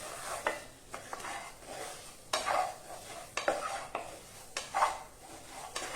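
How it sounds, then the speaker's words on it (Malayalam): Chicken curry masala stirred in a frying pan: repeated scraping strokes of a spoon against the pan at an uneven rhythm over a soft sizzle, close but fairly quiet, with no talking. "ഒന്ന് ഇളക്കുക"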